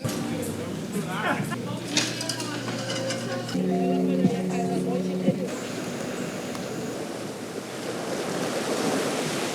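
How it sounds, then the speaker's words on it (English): Surf rolls onto a beach near Paraty, Brazil, as a steady broadband wash with wind buffeting the microphone and a brief low humming tone partway through. "So I'm on the main beach right now."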